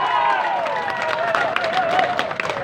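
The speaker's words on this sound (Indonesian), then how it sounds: "Dan kasih tepuk tangan untuk semua calon bupati pesisir barat." An audience at a public debate for regent candidates applauds, a continuous wash of clapping and crowd noise, while a voice carries on speaking over it.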